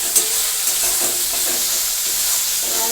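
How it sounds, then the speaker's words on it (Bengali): A spice masala with tomatoes sizzles and is stirred in a pan, a steady close frying hiss broken by soft scraping strokes of the spoon. "পুরো মশলাটা কষিয়ে নেবো তো দেখো বন্ধুরা মশলাটা তোমার ভালোভাবেই কষানো হয়ে গেছে"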